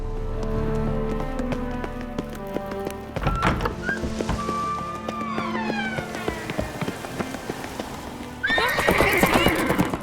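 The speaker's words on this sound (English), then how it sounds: "Grab a horse, we'll chase him down." A horse whinnies and hooves clip-clop at a gallop in The Witcher 3 game world, with thuds and a rain-like patter; a loud, close burst of hoofbeats and neighing closes out the stretch, with little talk.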